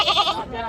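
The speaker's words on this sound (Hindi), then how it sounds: "बकरी आई है जी खूबसूरत बकरी है" A single short goat bleat at an outdoor livestock market, a close, wavering cry lasting under a second with faint background noise.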